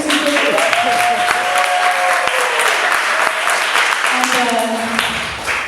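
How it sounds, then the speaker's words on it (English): An audience at a live Q&A session applauds steadily and loudly throughout, a dense wash of clapping with some voices and a tonal hum rising faintly underneath. "you can clap out like that"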